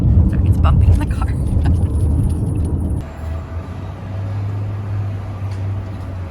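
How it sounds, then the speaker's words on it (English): Steady rumbling road noise fills a car interior on a bumpy road, loud and continuous with jolts in the first half, then a quieter, even engine drone. "Sorry, it's bumpy in the car."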